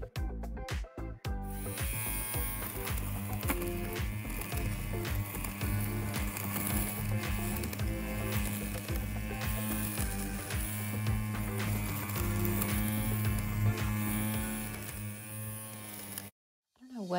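Pills are removed from the inexpensive fabric of an upholstered ottoman with a constant, close electric buzz and whir. It runs steadily for about fifteen seconds, then cuts off.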